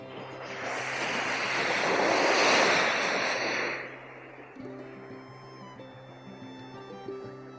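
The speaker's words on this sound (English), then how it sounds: "the sound of the waves is" Ocean waves wash onto a beach near Manly in Sydney, a broad rushing swell that builds and then fades, followed by quieter background with faint tonal music.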